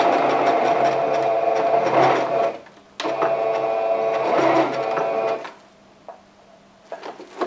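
Sewing machine stitching oven mitt pockets together, its steady whirring hum running in two long bursts with a short pause, then trailing off into quieter handling noises.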